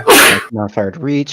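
A single sharp human sneeze bursts out at the start, followed immediately by a few spoken words from a player at a tabletop Dungeons & Dragons session.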